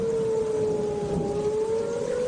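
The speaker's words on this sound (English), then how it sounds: "Suddenly, a tornado warning is issued for your area, and the tornado sirens sound." A wailing tornado warning siren holds a steady, eerie tone, distant and continuous over a low background hiss.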